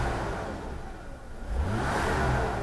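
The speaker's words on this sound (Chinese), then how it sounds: "引擎的表现其实也是 A 级的" Engine of a Mercedes-Benz W126 300SEL revs in a short burst: a steady mid-pitched hum that dips briefly, then climbs back up and holds at a higher pitch.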